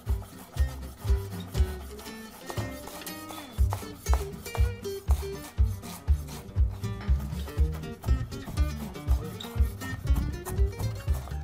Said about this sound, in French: Donc pour bien hacher le persil, vraiment bien le compresser comme ceci.